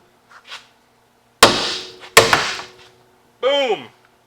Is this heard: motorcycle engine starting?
no